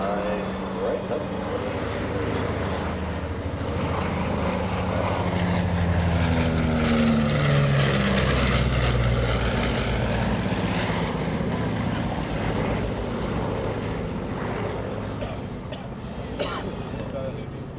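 A B-29 Superfortress flies past at the EAA AirVenture airshow in Oshkosh, its propeller engines swelling into a loud, sustained roar as it nears, then fading away, while an announcer talks over it.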